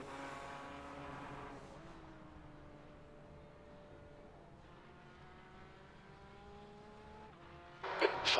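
Porsche Cayman race cars in iRacing run with engine notes rising and falling through gear changes, a moderate steady drone of revving and shifting, ending with a brief burst of louder noise.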